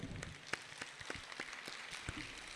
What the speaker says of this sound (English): Let us give the new graduate a grand round of applause